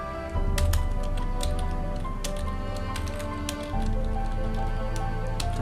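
Someone types on a computer keyboard close by, producing a quick, irregular string of sharp key clicks over a steady background hum.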